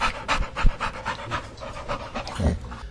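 A person imitates a puppy with quick, breathy panting and small yips, a rapid string of short puffs heard up close with no other talk.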